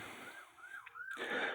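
A siren wails at night in a remote area, rising and falling once, then giving way to a louder, broader rushing noise, heard from inside a car with no talk.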